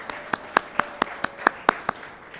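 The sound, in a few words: audience applause for Franco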